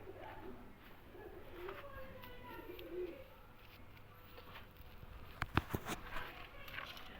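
Soft pigeon cooing in a quiet outdoor setting, low and murmuring, with a few sharper rustles and taps near the end.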